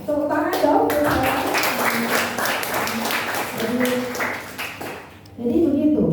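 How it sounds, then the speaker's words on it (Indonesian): A school audience at a Pancasila laboratory school program event at SMPN 230 Jakarta applauds in a dense, sustained patter, with a voice speaking over the clapping at times. "Tepuk tangan dong."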